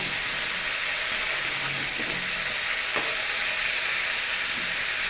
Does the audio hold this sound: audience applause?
no